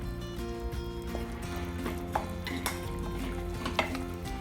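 Mango and ginger pickle with tamarind and fenugreek powder sautéing in oil in a pan, a constant low sizzle and bubbling with occasional metallic stirring clinks, close up and without speech.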